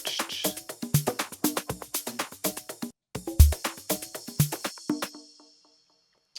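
A driving organic house drum groove with busy hi-hats and snappy hits plays for several seconds, then stops, leaving a shimmering cymbal tail ringing out.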